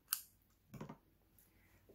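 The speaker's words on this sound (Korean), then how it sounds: "뜯어온 실은 잘라주세요." Scissors snip crochet yarn up close, a single quiet cut with a faint click before it in an otherwise still room.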